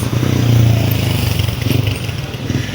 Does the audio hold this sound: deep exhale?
no